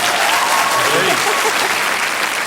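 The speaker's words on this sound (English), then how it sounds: "Round of applause for that." Dense, loud applause from a TV comedy show studio audience, sustained clapping throughout with voices mixed in underneath.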